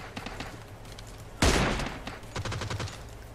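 Close-range gunfire in PUBG Mobile: a loud sharp shot bursts out midway, followed by a quick run of spray shots, with quieter firing scattered before it.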